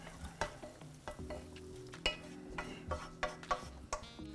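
Lentil soup being moved from a frying pan into a pot, with scattered sharp clinks and scrapes of a utensil against cookware and a soft sizzle in between, close and fairly quiet.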